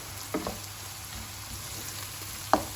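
Onions frying in a pan with salt for prawn sambal, a steady soft sizzle running throughout with two brief sharper clatters of stirring near the start and end.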